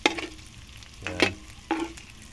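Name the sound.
string beans and pork frying in a pan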